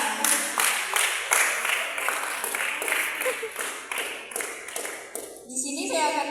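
A congregation applauds together at a church gathering, a fairly loud burst of clapping running steadily for several seconds with voices mixed in before it thins out.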